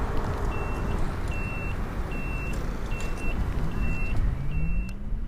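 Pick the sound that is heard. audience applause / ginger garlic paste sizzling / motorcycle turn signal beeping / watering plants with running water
motorcycle turn signal beeping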